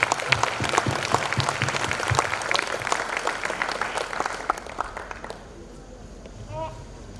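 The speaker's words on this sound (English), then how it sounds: "I would like to give them a round of applause again from all of us." Audience applause fills a school annual function hall. Dense clapping holds for about five seconds, then fades away, leaving quiet room tone with a faint voice near the end.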